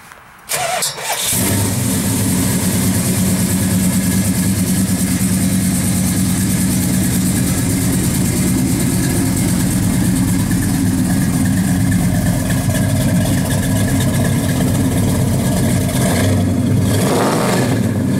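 A 1969 Dodge Super Bee V8 cranks and catches within the first second or so, then settles into a loud, steady, rumbling idle close by. Near the end the engine is blipped slightly.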